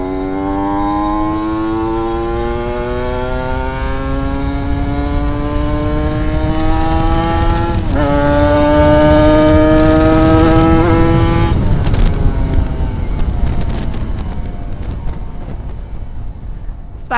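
Kawasaki Ninja 250 motorcycle fitted with Faito Racing steering parts, ridden through corners, its engine loud and close with rising and falling revs and gear changes throughout, wind rushing over the rider.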